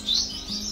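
Birds in an aviary breeding room give quick high chirps, two bright bursts close by over a steady low background hum.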